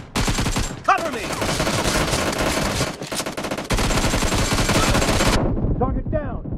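Rapid automatic gunfire rings out in the BGMI battle royale game, dense bursts of loud close shots with short gaps, and a voice calls out briefly in between.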